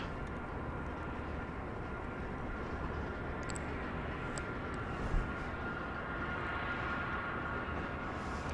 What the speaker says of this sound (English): So that appears to have been Southwest Airlines Flight 573 off to Midway Airport in Chicago on MAX 8.